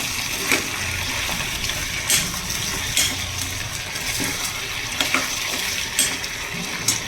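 A spoon stirs grated tomato into potatoes in a pan, with repeated scraping taps against the metal roughly once a second over a constant sizzle.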